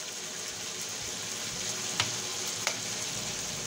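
Prawn manchurian sizzles steadily in a pan with red chili, tomato and soy sauces, a soft continuous frying hiss broken by two sharp clicks of stirring.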